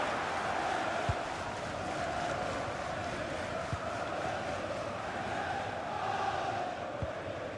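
A stadium crowd roars continuously in FIFA 23 at a match featuring Liverpool, a broad steady wash of cheering with a few faint thumps and no clear speech.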